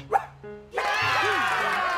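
A single short dog bark sounds near the start, brief and clear, then a voice and busy background sound carry on over it.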